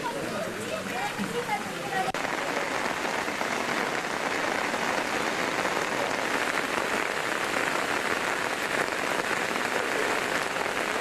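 Heavy monsoon rain pours down on Sankeshwar town in Hukkeri taluk, Belagavi district, during flooding, a dense, steady hiss of rain hitting surfaces throughout, with a voice talking over it.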